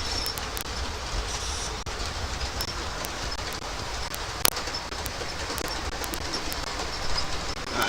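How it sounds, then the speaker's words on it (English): A train passing along rails outside, a steady broad rumble with scattered sharp clicks and clacks from the wheels, moderately loud and continuous throughout. "I want to get the train noise when it comes along here"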